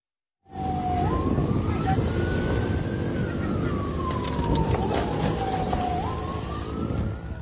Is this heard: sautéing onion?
no